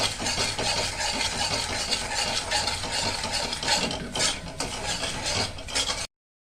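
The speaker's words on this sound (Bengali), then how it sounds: "এরকম করে এটাকে বারবার নাড়াচাড়া করে দেখবে চিনিটা একদম লাল হয়ে যাবে" Sugar being stirred in a pan as it caramelizes for homemade sweet yogurt, a busy scraping and clinking of a utensil against the pan over a soft sizzle, continuous and close, stopping abruptly at the end.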